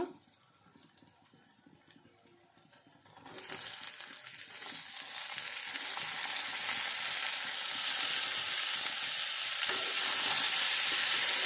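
Chopped green tomatoes go into a pan of frying onion and chili: a few quiet seconds, then a sudden loud sizzle that keeps building and stays strong to the end.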